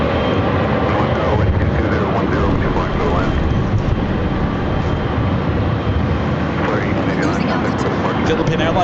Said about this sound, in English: Philippine Airlines Flight 113 heading to Manila. It's a 777-300ER.